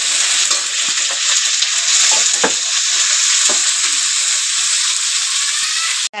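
Ginger garlic paste fries with browning onions in a hot pan, a steady, dense sizzle with occasional stirring scrapes and light crackles throughout.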